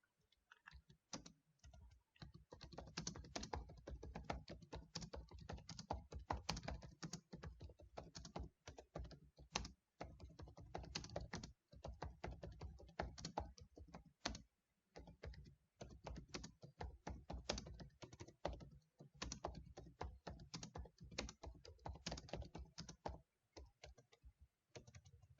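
Fast, steady typing on a computer keyboard, dense clacking keystrokes close to the mic that run almost nonstop with brief pauses and no voices.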